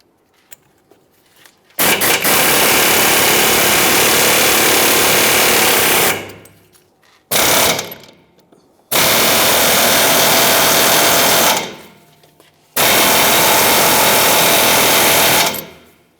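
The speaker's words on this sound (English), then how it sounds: "Now I've got my air chisel." An air chisel hammers away at rivet heads on a car's control arm, running in loud, sustained, rapid-fire bursts of several seconds each, separated by brief pauses, very close and dominant.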